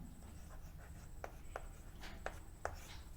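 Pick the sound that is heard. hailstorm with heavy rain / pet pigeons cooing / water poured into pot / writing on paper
writing on paper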